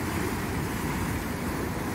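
Continuous rushing surf with wind noise, a broad steady roar of waves washing in, without distinct individual breaks or any voices.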